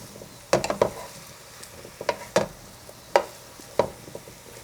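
Vegetables for an Iranian khoresht stew sizzle in a pan with a soft frying hiss, broken by several sharp clanks and scrapes of a utensil stirring against the pan.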